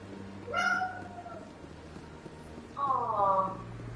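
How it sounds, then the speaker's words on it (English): A house cat meows twice, close and clear, with a pause between the calls, over a low steady background hum. "That's Cat Ringo for your welcome"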